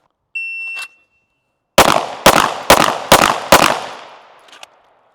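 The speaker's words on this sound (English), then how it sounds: "So 5 rounds at 25 from the draw." Five pistol shots fired from the draw at a 25-yard range, loud and sharp in a quick even rhythm, each trailing off, preceded by a shot timer's electronic beep.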